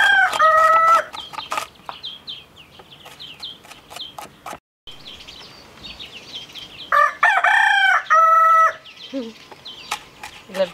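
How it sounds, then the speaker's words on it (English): A rooster crows loudly several times, with chickens clucking in between and some quieter bird calls, fairly close by. "Love the chicken in the background."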